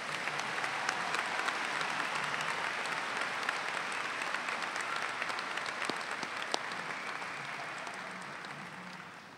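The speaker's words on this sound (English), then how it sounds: "Can we have one more huge round of applause for all of our talented musicians tonight?" Audience applause for musicians at a 2022 high school graduation ceremony, a broad, steady wash of many hands clapping in a large hall, sustained throughout before easing slightly at the end.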